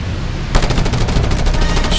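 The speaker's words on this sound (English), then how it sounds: "Oh, submachine gun, you say?" A submachine gun fires in Just Cause 2 as a loud, rapid burst that starts suddenly and keeps a fast, even rhythm, close and dominant.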